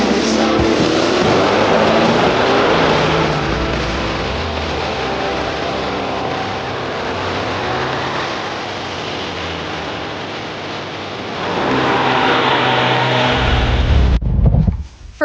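A 1980s snow cat on its first ride, its engine droning and surging loudly as it drives, easing off briefly midway before pulling hard again and cutting off abruptly.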